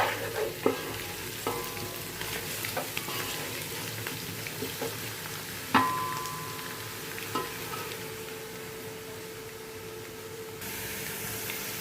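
Onions browning in a large pot, a soft continuous frying hiss broken by intermittent clanks and scrapes of stirring, fairly quiet and close.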